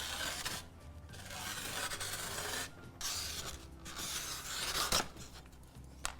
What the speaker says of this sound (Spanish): la presión que yo hago para cortar es casi solamente la que me ejerce el peso del mismo compás